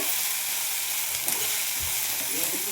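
Ladies finger (okra) frying in a pan, a dense, continuous sizzle close by with a faint stir or scrape partway through.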